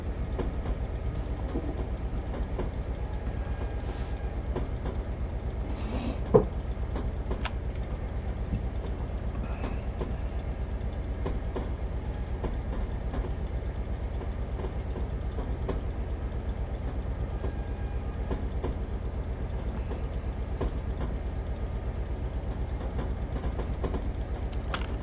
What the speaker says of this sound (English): I try and leave the engine running and put brakes on